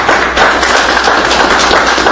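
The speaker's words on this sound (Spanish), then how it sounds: "Denle un buen aplauso al Señor en esta mañana" A church congregation applauds during a Sunday morning service, a loud, dense and steady wash of clapping that fills the whole stretch with no voices on top.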